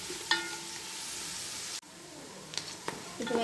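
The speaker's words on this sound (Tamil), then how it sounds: "வெங்காயம் நல்லா வணங்கணும்." Onions sizzle in a pan for mushroom biryani, a soft steady hiss with a few sharp clinks of a utensil and a brief cutoff midway.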